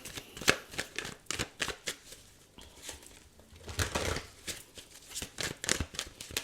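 Tarot cards shuffled and drawn from a deck for a reading: a run of crisp papery riffles, flicks and slaps, close and fairly quiet, with no talking.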